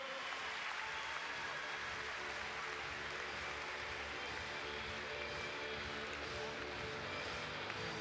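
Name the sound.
audience applauding children at show jumping event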